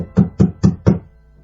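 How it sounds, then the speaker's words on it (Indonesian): Four firm knocks on a door in an even, quick rhythm, close and loud, followed by quiet. "suara ketukan di luar pintu"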